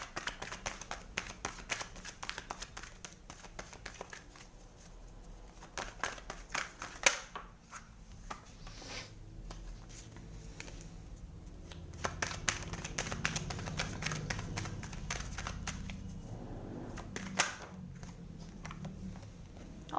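Tarot cards are shuffled and handled in a soft flurry of riffles, slaps and papery flicks, close and fairly quiet, with brief pauses between bursts.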